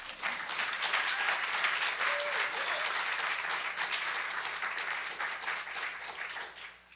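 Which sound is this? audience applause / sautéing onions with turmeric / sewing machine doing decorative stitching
audience applause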